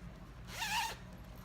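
A zipper on a knitted-sheep project bag with a red zip being pulled open in one quick, close rasping stroke lasting under half a second, set against a faint room hum.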